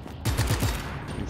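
A rapid burst of about five gunshots rings out in the game Just Cause 3, then fades into a quieter ambient tail.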